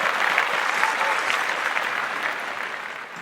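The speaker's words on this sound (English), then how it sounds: "Please join me in giving her a round of applause." A graduation audience at South Middle School gives a sustained round of applause for a retiring staff member, a dense wash of many hands clapping that stays steady and tapers slightly at the end.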